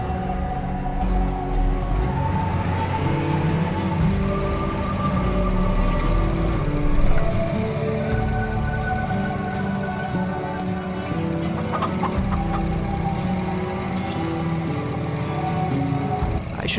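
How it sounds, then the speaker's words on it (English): Tractor engine in Farming Simulator 25 labouring under heavy field work, a steady loud drone with layered harmonic whine and rumble throughout, no talk over it. "I have a bad feeling about this tractor. It looks like it's really struggling with this kind of work."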